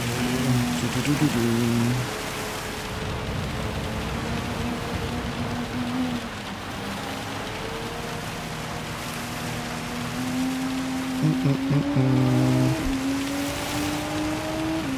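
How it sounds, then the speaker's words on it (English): Dense, steady rain hiss in Gran Turismo 7 at Spa fills the scene while a car engine drones underneath, its pitch rising and falling as it revs. "because of the rain it's super loud"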